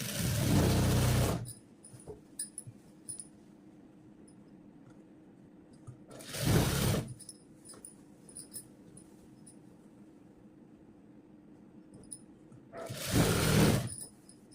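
A sewing machine runs in three loud bursts of about a second each while stitching a pant seam, with quiet stretches of faint handling noise between the runs.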